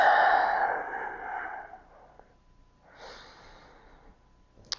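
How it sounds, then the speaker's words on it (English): Deep breathing during a yoga stretch session for sinus pressure: a long, strong, breathy exhale that fades out, a pause, then a softer inhale, heard close with no talk. "Breathe."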